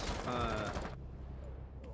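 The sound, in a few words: gunfire in the video game Rainbow Six Siege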